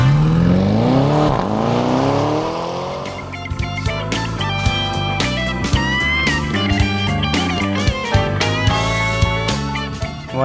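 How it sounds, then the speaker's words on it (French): A Porsche 911 Turbo of the 997.1 generation, rated at 620 Nm of torque, accelerates hard. Its engine note climbs steadily in pitch through several gear changes, loud and close throughout. "ce que j'apprécie tout particulièrement avec cette 911 Turbo, c'est la force de ce moteur"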